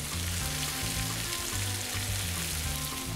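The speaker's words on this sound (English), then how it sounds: "At this point, I'm gonna throw in the garlic." Garlic sizzles loudly in a pan with steak fajita vegetables, a dense, steady crackle of frying close by with no talk.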